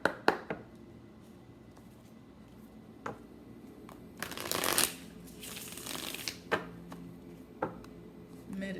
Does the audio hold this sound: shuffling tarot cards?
yes